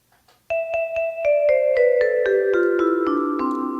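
Vibes voice on the upper keyboard of a Lowrey touchscreen organ, about a dozen bell-like struck notes stepping downward one by one in a steady rhythm, each ringing with a shimmering sustain, close and clear with no talking.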